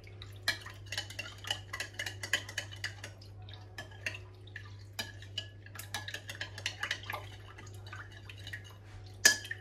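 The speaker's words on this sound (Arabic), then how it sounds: "هون راح احط بيضة، حطيت مي مع البيضة وراح احركها" Egg and water stirred in a bowl with a utensil, producing quick irregular clinks and taps against the bowl over a steady low hum, fairly close and without any talk.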